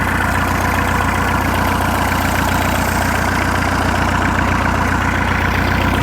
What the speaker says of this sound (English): Exhaust and the water coming through the heat exchanger coming out together.